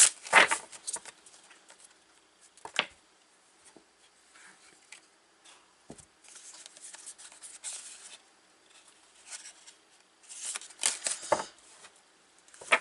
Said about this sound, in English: Some cards fell down, just wanted to make sure.